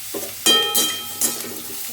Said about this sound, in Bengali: এই পর্যায়ে আমি গ্যাসটাকে মিডিয়ামে করে এই আলুটা আমি ছেড়ে দিলাম